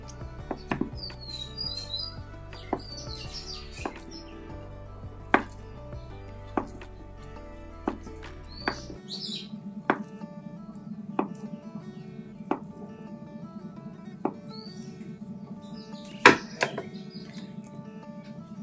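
A knife chops paneer in a series of sharp, evenly spaced taps on a board, with a low hum early on and birds chirping in the background.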